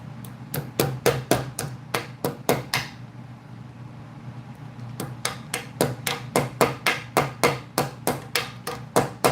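Knipex channel-lock pliers pound a staple as a makeshift hammer, about two dozen sharp metallic taps in a fast steady rhythm, close and loud, broken by a short pause midway before the striking resumes.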